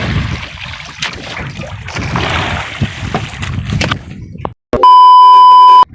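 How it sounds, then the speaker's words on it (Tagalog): The diesel engine of a large wooden fishing boat at sea drones as a loud, rough rumble mixed with water sloshing, then cuts to a sharp, steady electronic beep. "Maingay kasi yung diesel na makina."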